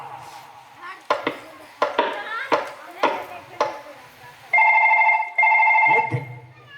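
A police station telephone bell rings in two long electronic bursts near the end, after a stretch of clattering and knocking sounds.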